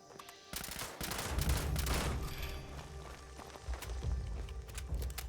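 Turret gunfire in Fallout 76 rattles out in rapid, continuous bursts of overlapping shots, fairly close and loud, with the firing holding steady for several seconds.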